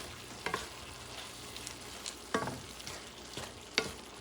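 Ground meat fries in a pan for Puerto Rican arroz con carne molida, a steady low sizzle broken by a few sharp scrapes and clacks as it is stirred, close up with no talking.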